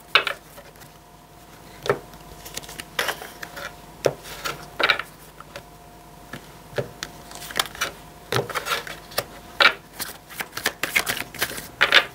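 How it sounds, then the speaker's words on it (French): Tarot cards are handled and turned face up on a table, giving a run of soft, crisp card snaps and slides in irregular bursts, close and fairly quiet. "Donc je mets toutes les cartes à l'endroit."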